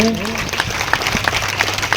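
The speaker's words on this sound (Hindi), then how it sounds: "उनके लिए जोरदार ताली अभिनंदन है।" Scattered, rhythmic hand claps ring out from the crowd at a Bhagwat Katha devotional gathering as guests arrive, fairly close and loud, mixed with voices and crowd murmur.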